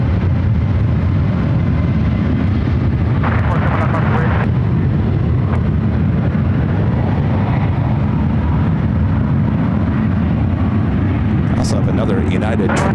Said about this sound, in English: we have a couple of takeoffs happening on the ones